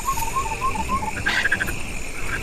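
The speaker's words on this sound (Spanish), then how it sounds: "Y la rana dardo venenosa es uno de los ejemplos más claros de ello." Poison dart frog calling in the Amazon rainforest, a series of short, high-pitched chirping notes repeated in quick bursts over steady insect and forest background.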